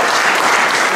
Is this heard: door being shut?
no